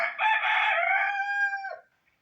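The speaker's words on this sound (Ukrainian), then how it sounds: "І кури мокрі гуляють." A single rooster crows loudly nearby in a Ukrainian village yard, a long drawn-out call lasting under two seconds, then quiet; no rain is evident.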